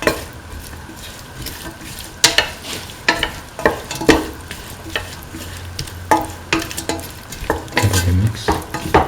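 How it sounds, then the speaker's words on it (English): A spoon stirs beef and green peas with tomato pieces and green chili in a pan, scraping in repeated uneven strokes over a soft, steady sizzle, close and fairly loud. "Mix in the tomato pieces and the green chili."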